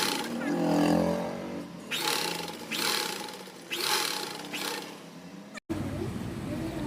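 A sewing machine stitches blouse fabric, a size 34 blouse, with the cloth turned wrong side up. It runs in several short, even bursts separated by pauses, fairly quiet and close by.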